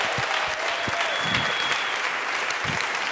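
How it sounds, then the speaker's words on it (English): Applause from a church congregation for young people, steady clapping with a few louder claps close by, running the whole time at moderate level. "Can we give our young people another round of applause?"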